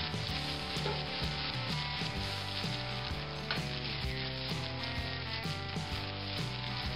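Cremini and white button mushrooms sizzle and crackle steadily in hot olive oil in a pan, a continuous close frying hiss with occasional small pops and some utensil stirring throughout.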